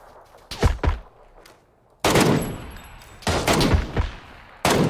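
Rifle gunfire in the shooter game PUBG: a couple of quick shots early, then a loud sustained burst, another longer burst and a final shot starting at the end, close and sharp with brief gaps between.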